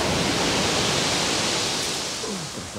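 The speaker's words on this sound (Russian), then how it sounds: "шум моря" Sea waves wash onto the shore at Antalya, a loud, continuous rushing hiss close by that eases slightly toward the end.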